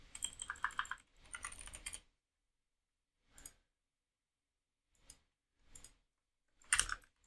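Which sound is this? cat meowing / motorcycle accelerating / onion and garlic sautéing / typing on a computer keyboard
typing on a computer keyboard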